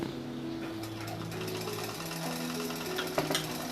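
A sewing machine runs steadily as it stitches a baby frock, a continuous close mechanical whir with a few brief clicks near the end and no talking.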